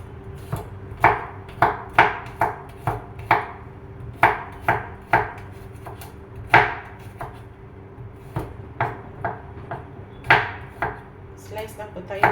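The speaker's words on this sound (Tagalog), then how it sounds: "Slice lang po tayo ng bawang, luya, at saka sibuyas." Knife slicing garlic, ginger and onion on a cutting board for a vegetable dish, a steady series of sharp close chops in uneven rhythm, some doubled, with quiet pauses between and no talking.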